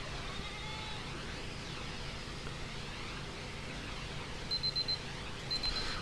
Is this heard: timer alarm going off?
yes